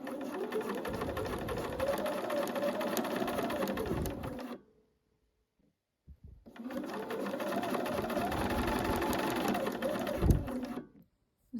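A sewing machine stitches fabric pieces together in two long, steady motor runs of a few seconds each, separated by a short silent pause, close and clear.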